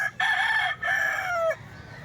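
A single rooster crows close by in one long, loud call that breaks briefly and then trails off, over a low background murmur.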